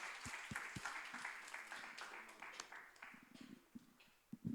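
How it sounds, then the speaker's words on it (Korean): A church youth-group congregation applauds during a Sunday worship service, a soft, distant crowd clapping that thins out toward the end with a few louder claps at the close. "여러분 뜨거운 박수로 격려해 주셨으면 좋겠습니다"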